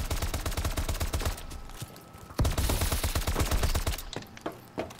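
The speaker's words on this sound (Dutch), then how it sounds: "Ik hoor iemand schieten." Rapid bursts of gunfire in Call of Duty: Advanced Warfare crackle in quick volleys, with a brief lull before another sustained stretch of shots.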